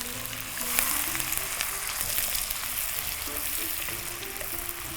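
Onions sautéing in a hot pan give off a steady, dense sizzle with occasional stirring, loud and continuous for the whole stretch, no voices.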